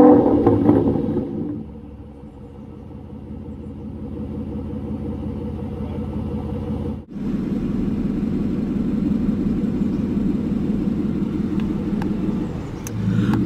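A 2015 Aston Martin Vanquish Carbon Black Edition engine fires up with a loud burst, drops to a deep steady idle rumble, then swells again with a brief blip before settling into a throaty exhaust drone, heard close without talking.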